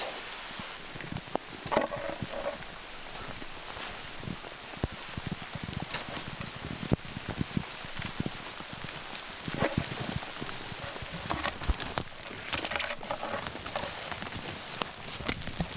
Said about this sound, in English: We're hiding under little fir trees because it's pouring rain again.